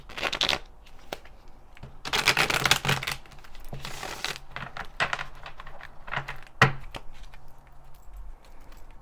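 A deck of cards is shuffled in several quick riffling bursts, crisp and close, with short pauses and soft handling clicks between them.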